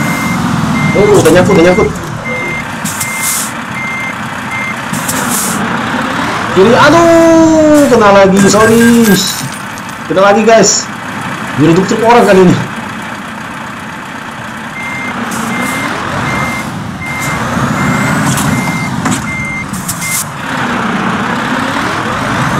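A truck reverses in Euro Truck Simulator 2 on an Indonesian map around the towns of Tegal and Pemalang, its steady beeps repeating under a running engine while someone talks loudly over them.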